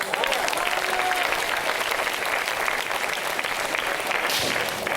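A large audience claps enthusiastically at a religious Eid gathering, dense sustained applause filling the whole stretch at full volume.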